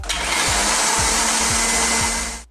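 A food processor whirs loudly and steadily for a couple of seconds, chopping fresh coriander, chilies, garlic ginger paste and onions, with a faint rhythmic thump pulsing about twice a second under the motor's broad roar.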